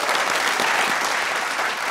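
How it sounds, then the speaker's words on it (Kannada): Steady, dense clapping from a studio audience on a television game show fills the short stretch, close and even, with no voices over it. "ಜೋರ್ ಚಪ್ಪಾಳೆ ಹಾಕೊಳ್ಳಿ"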